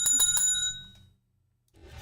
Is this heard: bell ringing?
yes